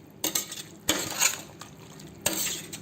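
A dish being stirred in a pot: a few distinct scraping and clinking strokes of a utensil against the pot with faint bubbling between them, close and fairly clear, no talking.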